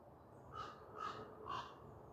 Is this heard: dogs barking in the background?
no